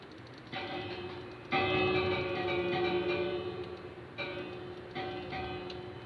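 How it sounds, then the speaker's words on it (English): A village bell in a survival multiplayer video game is struck several times, each ring a bright, lingering metallic tone over steady ambient game sound. "Bells are fun."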